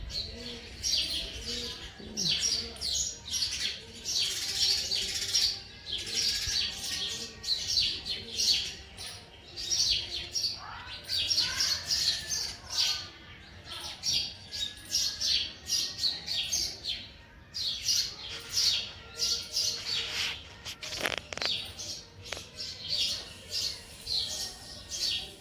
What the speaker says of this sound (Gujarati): સવારમાં ચકલીઓ જોઈ શકો છો